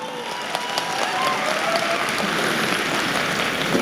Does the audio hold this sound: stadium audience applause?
yes